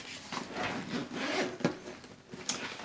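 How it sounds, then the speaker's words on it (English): A zipper running around a Knack Pack Series 2 bag is pulled open in short, quiet, scratchy strokes with small pauses between them, close up. "I start undoing this zipper, it goes all the way around the bag"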